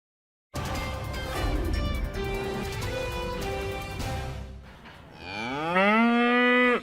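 Cattle on a ranch, with several mooing calls over a low outdoor rumble, ending in one loud, close, drawn-out moo.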